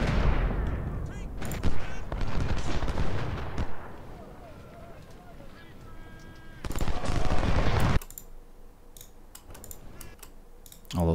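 Massed musket and artillery fire from a Civil War battle in the strategy game Ultimate General: Civil War at Rio Hill, with dense rolling volleys and sharp cracks that surge loud, drop to a steady crackle, then swell again.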